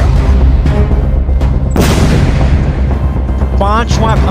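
A wartime explosion in Gaza, one big sharp blast followed by a long rumbling decay amid lesser booms and a steady low drone, with some speech in the background.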